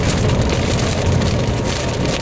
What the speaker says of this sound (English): Oh my goodness, it's raining so hard.